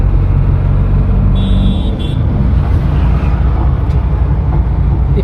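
Steady low road rumble and engine drone inside a moving Tata AC car, continuous and fairly loud throughout, with no voices.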